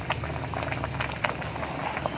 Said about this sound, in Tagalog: Kulo na siya ng kulo.